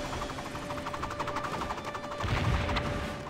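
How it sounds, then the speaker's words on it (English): Rapid bursts of video game gunfire from Lego Batman, a steady stream of small popping shots at moderate distance with a low rumble swelling near the end, no talk. "Why is Jim shooting us?"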